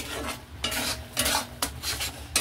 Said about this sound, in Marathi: आणि आता याला मस्त असं हलवायचं. गॅस फास्ट करायचा.